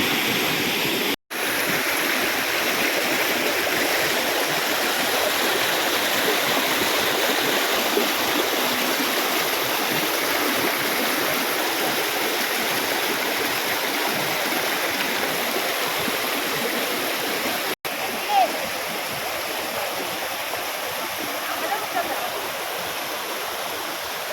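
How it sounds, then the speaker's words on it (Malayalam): Constant rushing roar of a river stream flowing below Shoolam Waterfalls, loud and unbroken, with two brief dropouts. "താഴത്തോട്ട് ഇങ്ങനെ പുഴയാണ് കേട്ടോ"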